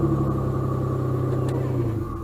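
A 1999 Isuzu Amigo with a bad transmission idles and rolls in reverse, its engine a steady, loud, close rumble with a low droning hum that eases slightly near the end, no talking.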